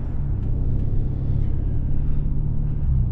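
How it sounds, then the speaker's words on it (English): A 2023 Hyundai Sonata N-Line driving on the road, heard as a steady low rumble of engine and road noise from inside the cabin, constant and fairly loud with no talking. "we are out on the road driving this 2023 Hyundai Sonata N-Line"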